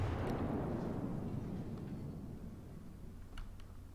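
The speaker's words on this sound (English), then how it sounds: "Now I'm shooting at this Königsberg" Heavy naval gunfire from a warship in World of Warships, a deep rumbling blast that decays slowly over several seconds, with a few faint distant shots later and no talk.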